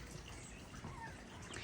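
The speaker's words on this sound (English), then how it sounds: "you can't see the waterfall very well, but you can still hear it." A garden waterfall hidden behind overgrown wild vine gives a steady, faint watery rush that stays even throughout, distant and soft with no voices.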